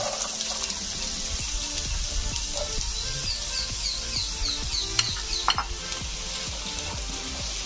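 Potatoes frying in a hot pan for a paneer and cauliflower curry, a steady close sizzle with soft stirring scrapes and clinks of a utensil against the pan, no talking.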